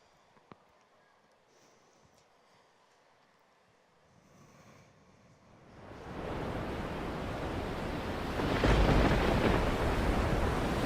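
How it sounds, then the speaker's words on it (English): Ocean waves crash and roar, starting faint and swelling into a loud, steady wash of surf that builds toward the end. "The waves are crashing around you"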